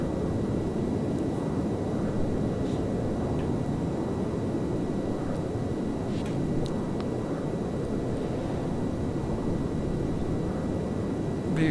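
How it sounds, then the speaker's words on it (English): A recirculation fan runs in a Dash 8 Q400 flight simulator cockpit, giving a steady, even broadband whoosh and hum that holds at the same level throughout with no breaks. "And recirc fan comes on."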